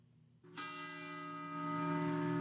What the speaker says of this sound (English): the satanic bell ringing